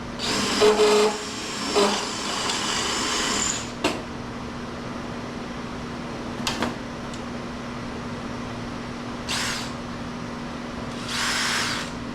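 A drill whines in short bursts drilling out rivets in a steel plate, a steady mechanical hum underneath, with pauses between each run.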